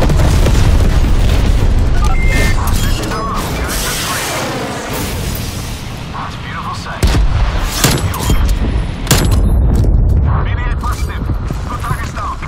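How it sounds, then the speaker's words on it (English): Napalm strike in the Call of Duty Black Ops Cold War Domination match on the Amerika map: loud, continuous rumbling explosions and burning roar that swell again partway through, with voices calling out during the game. "Release napalm strike on my mark."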